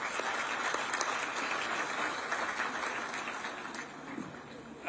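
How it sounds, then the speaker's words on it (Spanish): An audience applauds at a construction chamber gathering: dense, continuous clapping sustained for several seconds at moderate loudness. "además un aplauso porque hoy es su cumpleaños."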